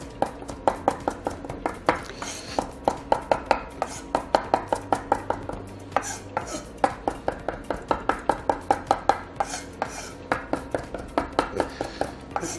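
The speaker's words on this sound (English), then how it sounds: "chop up cilantro" A big knife rough-chops fresh cilantro on a cutting board in a quick, steady rhythm of crisp, close thunks that runs without pause, with no voices.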